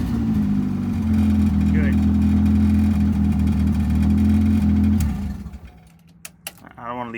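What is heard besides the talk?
boosted Honda Accord F23 engine cold start on E85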